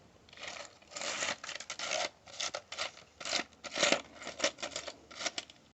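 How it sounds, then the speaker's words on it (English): Screws being sorted by hand, giving a series of dry metallic rustles and rattles in irregular bursts, close and moderately loud, with no talking. "Sorting through screws."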